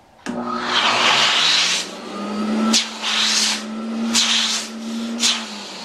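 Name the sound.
Lemmer T-75q HVLP turbine running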